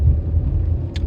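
Low, steady engine and road rumble inside a moving car during a late-night ride, continuous throughout with a brief faint hiss near the end; no talking.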